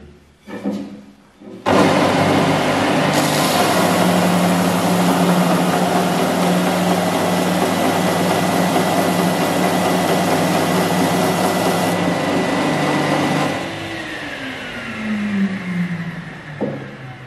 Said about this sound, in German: Und jetzt werden wir das genau im 90-Grad-Winkel schleifen